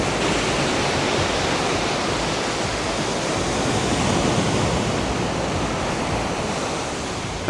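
Ocean waves breaking on a beach in Thailand, a loud continuous wash of surf that fills the whole span with steady rushing noise and no voices.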